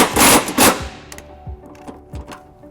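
Bolts on a trailer hitch being tightened with an 11/16 socket during a hitch install on a 2019 Nissan Sentra: two loud bursts of rapid ratcheting or impact-driver clatter, then softer scattered clicks and knocks close by.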